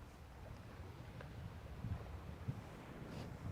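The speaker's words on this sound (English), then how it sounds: "It's windy, but the wind is quite warm." Steady warm wind rushes and buffets against the microphone on the Bristol Channel coast, a low, continuous roar with occasional gusts; no voices.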